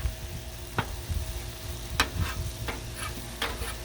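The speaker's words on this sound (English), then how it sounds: "We'll give that one more stir." Jambalaya stirred on a Blackstone griddle outdoors: a constant low sizzle and hiss with a few sharp spatula scrapes against the flat steel, close but fairly quiet.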